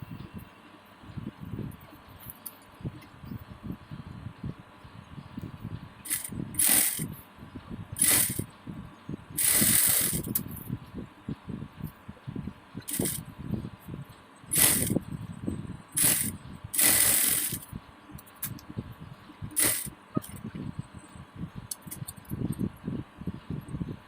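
A sewing machine stitches a lined blouse in bursts of rapid mechanical clatter, runs starting and stopping repeatedly with short pauses between them, close and fairly loud, with no talking.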